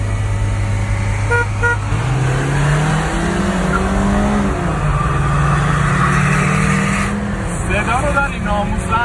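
A car engine fitted with exhaust headers revs and roars with a raspy, loud exhaust note, rising and falling in pitch, with people talking over it on a Tehran street.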